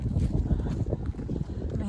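Strong wind buffets the microphone on an exposed Appalachian Trail mountaintop, a loud, continuous low rumble with gusty swells that stays steady throughout.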